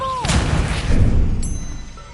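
The Incendio fire spell is cast in Hogwarts Legacy, a loud whooshing burst with a rumbling low tail that fades over about two seconds, with some faint tonal game sounds over it.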